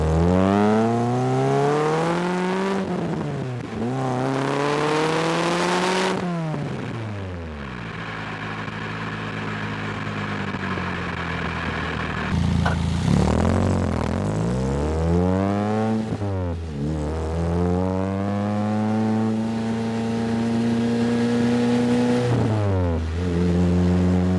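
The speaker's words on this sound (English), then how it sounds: "I'll show you how that rev limiter works." A sports car engine revs hard and close, its pitch sweeping up repeatedly to the rev limiter before dropping back, with a steadier stretch midway and more rising pulls after; loud and continuous, with no talking.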